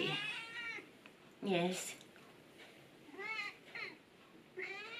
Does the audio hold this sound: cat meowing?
yes